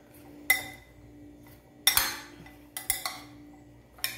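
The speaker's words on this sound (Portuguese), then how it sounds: "E aqui eu vou misturar." A utensil clinks against a bowl while seasoning and olive oil are mixed into sliced sweet potato chips. There are a few sharp, separate metallic taps, spaced irregularly and heard up close against a quiet background.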